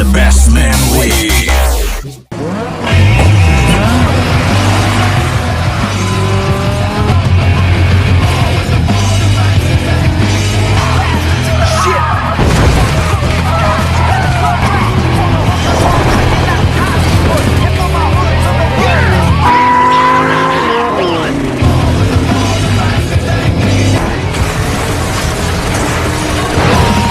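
Cars racing and drifting through a Tokyo street race, with loud, continuous engine roar, revving and tyre noise over a music score, a brief dropout near the start and a crash-like burst late in the run.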